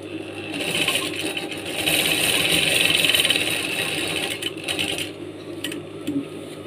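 Sewing machine running steadily as it stitches a vest pocket, a fast mechanical whir that pauses briefly near the end before a short restart.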